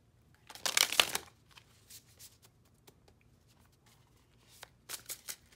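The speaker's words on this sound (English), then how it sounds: "Do one more shuffle." A burst of tarot cards being shuffled, a loud riffle first, then softer scattered card flicks and another quick run of shuffling near the end.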